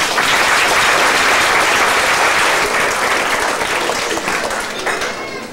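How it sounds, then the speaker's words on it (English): Round of applause from an audience at an African United Baptist Association gathering, a strong continuous burst of clapping that fades gradually toward the end. "we can show it again by giving him a round of applause"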